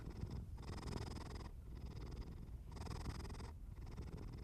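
A cat purrs steadily and close, its soft rumbling breaths rising and falling in a slow, even rhythm with no other sound.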